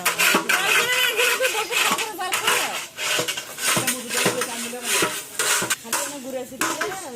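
A metal ladle scrapes and clatters against a large cooking pot as it works onions during festive cooking, a close busy run of scraping and knocking heard under people talking nearby.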